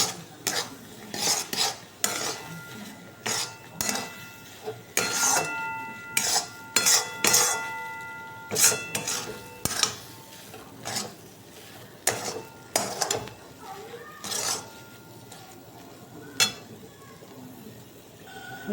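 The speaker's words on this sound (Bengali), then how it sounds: "একটু খাবার সোডা দেবো, যে ভালো করে এটাকে মিশিয়ে নেব।" A spoon stirs a semolina mixture with baking soda in a pot, giving repeated scraping strokes and metallic clinks in an uneven rhythm, close and fairly loud, with a faint sizzle underneath.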